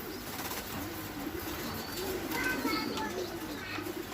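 A weakened pigeon hatched in 2017, shrunken-stomached and struggling to eat after days without food, coos softly and steadily for a few seconds, with faint voices in the background.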